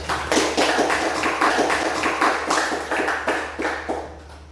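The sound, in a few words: class applause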